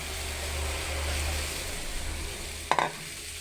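Soaked flattened rice (aval) gets stirred in a pan over a low steady sizzle, and a brief scraping clatter of the spoon comes near the end.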